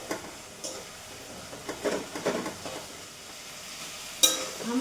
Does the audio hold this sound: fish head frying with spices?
yes